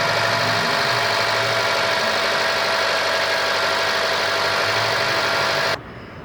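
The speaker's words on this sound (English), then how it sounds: "I'm going to start the motor and listen for any unusual noises." A 2008 Mitsubishi Lancer engine runs at a steady, close idle with a constant hum and mild rumble, then cuts off abruptly near the end.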